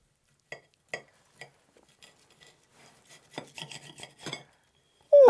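Knife slicing through a hard-boiled Scotch egg made to an 1805 recipe, a few sparse scraping strokes followed by a denser burst of rasping cuts against the plate.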